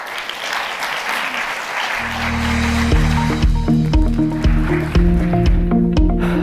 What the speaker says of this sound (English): Can we give another round of applause for both Leslie and Jen?